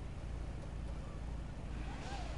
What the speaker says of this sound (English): This engine sound is dope.